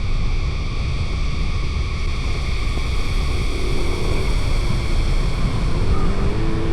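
A 2025 Yamaha NMAX scooter accelerates hard in T mode, giving a steady, loud roar of engine and rushing wind that holds evenly throughout, with no voices.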